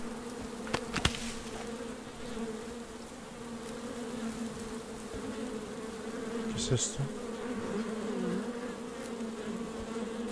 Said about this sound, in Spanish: Ah, un panel de abejas.